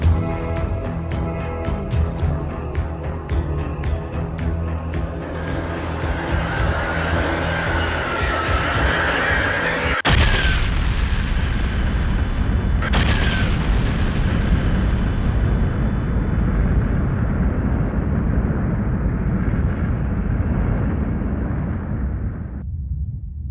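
A sound effect of a star exploding as a supernova plays as a long, loud, roaring rumble that surges with a sharp blast partway through, then sustains a dense roar before cutting off, with no talk.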